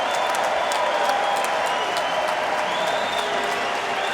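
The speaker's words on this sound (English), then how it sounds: "let's have a round of applause for these two warriors" Steady, dense applause from a crowd at a bare-knuckle fight, sustained and fairly loud throughout, with a faint voice audible underneath.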